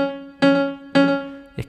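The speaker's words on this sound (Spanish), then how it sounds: "adapté todo a un piano con un poquito de delay" Piano chords with a delay effect: three struck chords about half a second apart, each ringing out clearly and close, with no talking.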